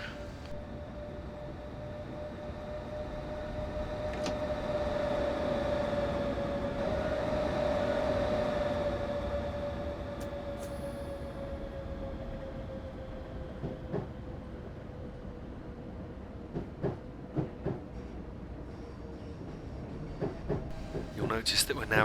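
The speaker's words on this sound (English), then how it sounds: "I will idle the power and let the train coast until we're able to accelerate again" Simulated train coasting with power idled on the London Bridge to Victoria route in Train Simulator 2015, a steady rolling rumble with a sustained tonal whine, swelling slightly midway, then sharp rail clicks toward the end.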